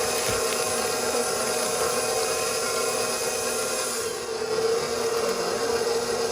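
An electric hand mixer stirs cake batter as a Butterfinger cake is made, giving a steady, continuous whirring drone that stays loud and even throughout with no talking.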